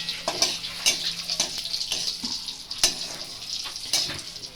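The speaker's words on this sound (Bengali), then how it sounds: "রাঁধুনি ফোড়ন দেওয়ার পরে আমি এটাকে ভালো করে ভেজে নিতে হবে" Radhuni seeds and chilli are tempered in hot oil, giving a steady crackling sizzle near the mic with repeated sharp pops and stirring clicks and no talking.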